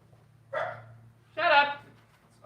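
Two dogs bark indoors in a few separate, fairly loud bursts spaced about a second apart over a low steady hum.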